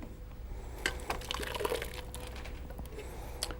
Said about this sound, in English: you need to go through a very fine mesh strainer to get all those little bits out